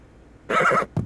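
A horse in The Sims video game whinnies once, short and loud, followed by a brief snort at close range.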